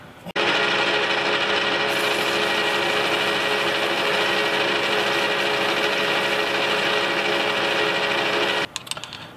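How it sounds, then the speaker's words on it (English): Metal edge being chamfered, likely on a lathe beside a welding table: a steady, loud grinding whir with constant tonal lines runs unbroken for about eight seconds, then cuts off. "So we'll chamfer this edge a little bit."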